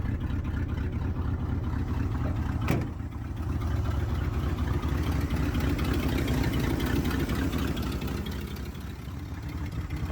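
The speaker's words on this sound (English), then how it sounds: "Idling away." A 1976 Ford truck with its original 390 FE V8 idles steadily at close range, a continuous low rumble with no talk, broken only by a brief sharp click near the three-second mark.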